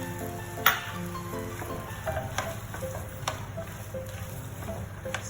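Chopped tomato hits a pan of frying potato for a spicy potato bhaji, producing a soft, steady sizzle with an early sharp clatter and a few light stirring taps.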